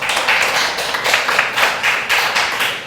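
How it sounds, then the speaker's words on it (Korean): A church congregation at a Sunday worship service claps together in steady, rhythmic applause, many hands beating in a loud, even pulse with no voices over it. "하나님께 영광의 박수로."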